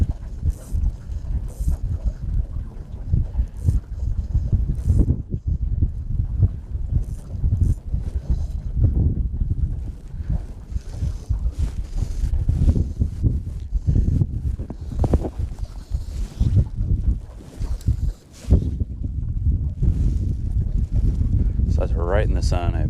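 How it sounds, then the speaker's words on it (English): Strong wind gusts buffet the microphone outdoors while fishing with a float, a loud, continuous rumbling roar that swells and drops across the whole stretch, with a person speaking over it at times. "Wind's blowing pretty good."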